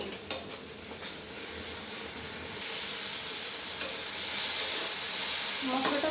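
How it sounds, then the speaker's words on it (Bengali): Chili powder and cumin sauté in oil with masala for a spicy tengra fish curry, a close continuous sizzle and hiss that grows louder as spices hit the pan, with light stirring scrapes. "এবার দিয়ে দেবো লঙ্কা গুঁড়ো জিরে একটু কষিয়ে নেব"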